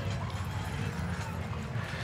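Horses pull the Wells Fargo stagecoach along a Veterans Day parade route in Las Vegas, a muffled, continuous clatter of hooves under heavy crowd and street noise.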